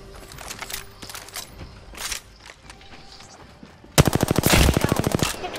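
Rapid automatic gunfire from an Apex Legends match bursts in abruptly near the end as a loud, fast, evenly spaced string of shots, following quieter in-game footsteps and clatter.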